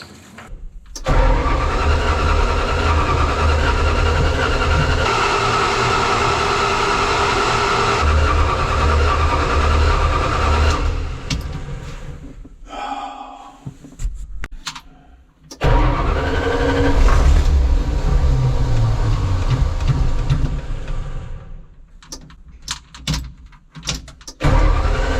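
A balky snow cat tow truck engine cranks and fires on ether, roaring loudly and steadily up close for several seconds, sputtering down, then catching and running hard again before faltering into uneven bursts.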